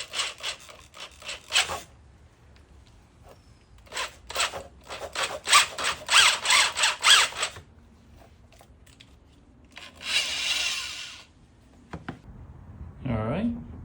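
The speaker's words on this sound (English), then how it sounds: "I need to get these aligned, and then I'm going to drill through this to make sure it can sit flush." Bursts of power drilling into a 1979 Honda CBX motorcycle seat mount, several loud grinding runs close by with short pauses between, then a longer steady whir near the end, with people talking between bursts.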